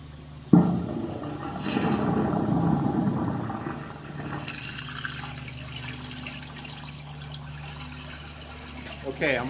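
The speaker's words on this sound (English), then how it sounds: "I flushed the toilet" A toilet flushing into a residential sewer main lateral, heard as a sudden onset of rushing water that swells for a few seconds, then settles into a steady, quieter flow and trickle through the pipe.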